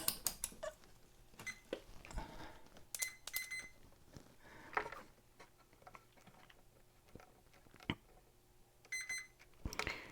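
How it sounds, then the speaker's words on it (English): A digital multimeter's continuity beep while testing a fuse from Behringer MS16 studio monitor speakers, with short electronic beep bursts amid handling clicks and taps of probes at close range. "Yeah, the fuse beeps out okay."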